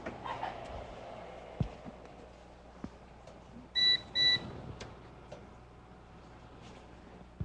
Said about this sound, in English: I got a beeper over here